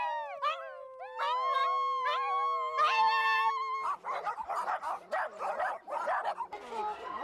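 Dogs at an animal shelter in China, first a drawn-out chorus of howls, then a burst of overlapping barks and yips from several dogs close by.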